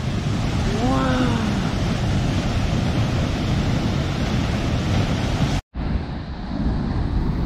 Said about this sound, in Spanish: A un paso está la cascada.